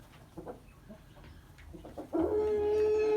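Chickens on a farm, next to a stove pipe, cluck softly and intermittently, followed by a louder, drawn-out crowing or squawking call close by.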